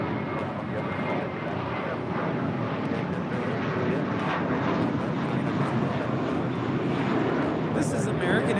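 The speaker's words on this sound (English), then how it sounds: "This is American Airlines 2833 departing to Dallas Fort Worth on an A321" American Airlines A321 jet departing Los Angeles International Airport, a broad, steady roar of engines that holds loud and continuous throughout, heard from a distance outdoors.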